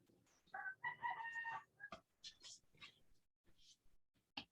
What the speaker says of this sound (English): I'm hearing a rooster at the background